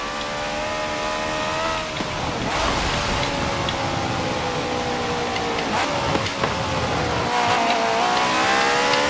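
A race car engine in the video game Forza Motorsport 7 drones and revs steadily at high pitch on a small wet track in rain, with tire hiss and spray, continuous and loud throughout.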